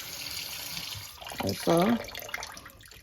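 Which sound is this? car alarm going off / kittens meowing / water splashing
water splashing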